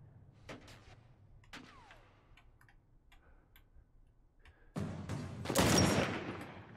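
Gunfire in the video game The Last of Us Part 1, with a few sharp isolated shots early on followed by a louder, denser burst near the end, over a quiet game background and with no talking.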